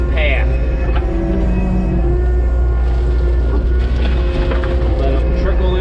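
A Kubota SVL 90-2 skid steer loader tilts its bucket on a steep slope while backfilling around an inground pool, its diesel engine droning loud and close without pause and a hydraulic whine rising over it.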